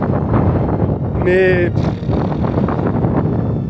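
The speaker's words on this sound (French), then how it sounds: "Et ce putain de vent qui ne me lâchera pas de toute façon" Strong wind buffets the microphone during a long-distance bicycle ride across Europe, a constant loud rushing roar with a brief tonal whine partway through as someone speaks a word.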